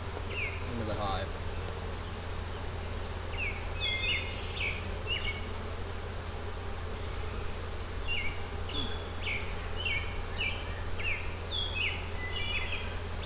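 Honey bees buzzing around a nuc hive during installation, a dense continuous hum close by, with birds chirping in short bursts in the background.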